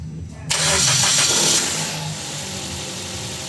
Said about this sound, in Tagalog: start ko na nga itong makina.